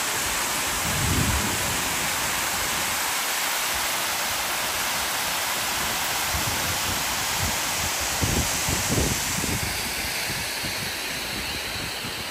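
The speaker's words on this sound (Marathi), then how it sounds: "त्या स्टेप्स मधून जसं पाणी पडतंय ना, किती सुंदर दिसतंय" Water pours over the stepped face of a large dam near Tapola, a loud, unbroken rushing roar that fills the whole span, with deeper surging pulses now and then.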